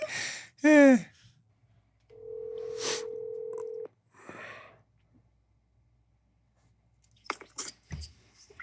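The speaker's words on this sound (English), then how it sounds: "I'll call her right back." A telephone being dialed for a callback, with a short rising electronic chirp and then a sustained steady tone lasting under two seconds, followed by brief faint rustles and clicks near the end; no speech.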